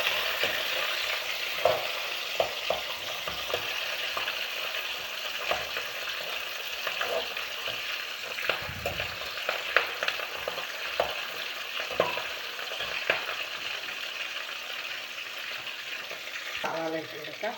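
Ginger, garlic and green chilli sizzle steadily in a hot pan for a crab curry, a dense continuous fry broken by scattered stirring scrapes and clicks, close and fairly loud with no talk.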